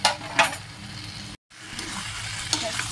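Fried potatoes go into sizzling masala in a pan, bringing bursts of frying crackle and stirring scrapes, broken by a brief gap of silence, then more sizzling with a few small clinks.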